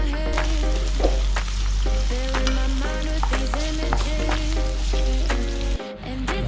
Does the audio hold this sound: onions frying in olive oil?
yes